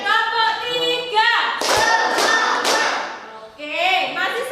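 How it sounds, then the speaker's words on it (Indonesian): Students in a classroom clap together in short rhythmic bursts of sharp, loud claps mixed with thumps, with the voices of a teacher and children around them. "kita ulangi lagi. Tepuk 1, tepuk 2, tepuk"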